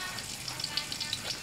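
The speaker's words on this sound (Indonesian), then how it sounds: "sambil goreng ikan asin kita tumbuk cabai guys" Salted fish frying in a pan during camp cooking in a tent, a soft, steady sizzle with faint crackles and pops, fairly quiet and without talk.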